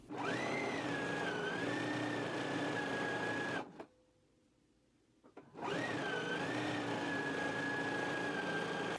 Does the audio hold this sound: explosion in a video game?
no